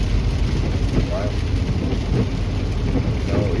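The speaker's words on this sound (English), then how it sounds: "Even as I'm out here driving and it's pouring down rain" Heavy rain pours steadily over a car being driven, a dense continuous roar of water with low engine and road rumble underneath.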